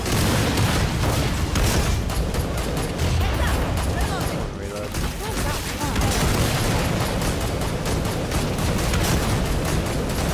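A guided missile blasts in Killing Floor 2 amid a dense, continuous barrage of gunfire and booming explosions that stays loud throughout, with no clear separate blast standing out.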